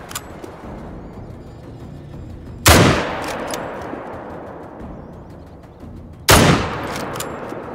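Two loud, sharp rifle shots from a .300 Magnum in the hunting game theHunter: Call of the Wild, fired at a bison a few seconds apart, each cracking up front and trailing off in a long rolling echo over quiet outdoor ambience.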